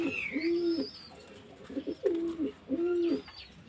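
Adult female pigeons coo in repeated low, throaty phrases, three or four bursts close by, with a brief higher chirp from another bird in between.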